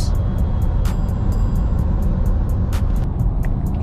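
A car cruising at steady constant speed on a highway, with continuous broadband road and engine noise throughout, loud and even, with brief airy whooshes and faint ticks over the drone.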